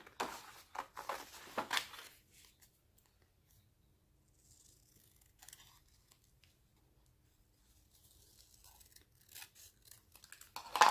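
Scissors snipping through green paper while making an Easter bunny treat bag, quick crisp cuts clustered at the start and again at the end, separated by a long quiet stretch.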